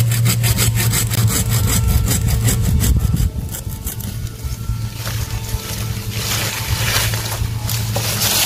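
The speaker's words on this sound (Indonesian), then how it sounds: "Ini akan saya potong teman-teman." A hand saw cuts through the tall trunk of bonsai material in quick rhythmic rasping strokes, close and loud, pausing briefly before the sawing resumes.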